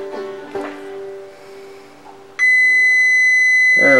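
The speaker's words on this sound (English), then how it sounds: "Put my meter in beep mode so you can hear the continuity of the two contacts." Multimeter in continuity mode sounding a steady, loud electronic tone that starts partway through and holds while relay contacts from a Lenze servo drive are tested, after some faint handling noise.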